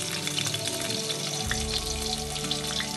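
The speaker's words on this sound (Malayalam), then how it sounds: "എണ്ണയൊന്ന് ചൂടായി വരുമ്പോഴേക്കും നമ്മളിതിലേക്ക് ചെറുതായി അരിഞ്ഞ് വെളുത്തുള്ളിയാണ് ചേർത്ത് കൊടുക്കുന്നത്" Finely chopped garlic frying in hot oil for Potato 65, with a steady close sizzle and crackle that carries on without pause at a moderate level.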